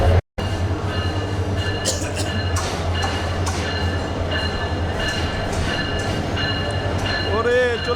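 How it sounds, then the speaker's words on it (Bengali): The Kurigram Express, a red-and-green train, rolls into a quiet, near-empty station with a loud, continuous rumble. Tonal horn-like lines run through it, and a wheel squeal rises near the end. "আর এখন আমাদের ট্রেন চলে আসবে কিছুক্ষণের ভিতরেই"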